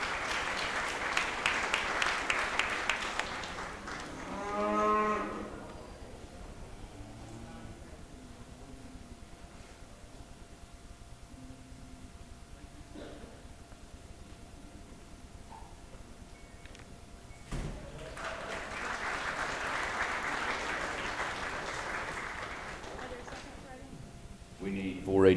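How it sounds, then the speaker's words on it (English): Applause for junior livestock exhibitors in a show arena, a burst of crowd clapping at the start and another round later, with a voice over a loudspeaker and quieter arena noise between. "Big round of applause again for all these exhibitors."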